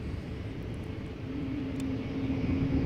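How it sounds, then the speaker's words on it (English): An Embraer E195-E2 jet airliner at Amsterdam passes as a steady broad rumble, its engine drone building slightly louder toward the end, heard from a distance with no voices. "E2 Embraer 195 over here, going to Stavanger"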